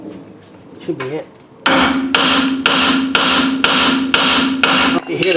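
A hammer strikes a ball joint on a 1996 GMC Jimmy with rear-wheel drive, a quick series of about eight sharp metallic taps in a steady rhythm, loud and close, following a brief stretch of quieter handling noise.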